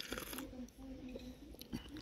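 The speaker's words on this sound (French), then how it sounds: "il faut croquer les huîtres" Raw Breton oysters are crunched between the teeth at close range, with faint bites and chewing surfacing under ongoing conversation in a quiet room.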